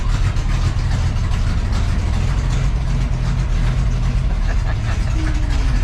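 A 1966 Chevrolet C10 pickup with a newly fitted exhaust system idles steadily, its deep, even rumble loud and close throughout with a faint mechanical hum above it.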